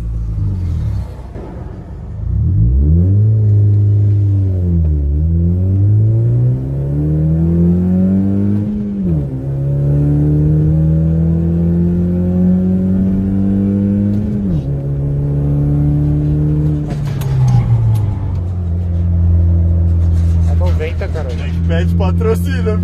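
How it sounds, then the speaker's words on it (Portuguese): A Honda Civic Si engine revs hard through repeated gear pulls on a 0–100 acceleration run, a loud, close rising drone that climbs and drops at each shift, ending in brief clatter. "A gente vai fazer uma medição do carro no 0 a 100 na descida e um na subida para ver a diferença."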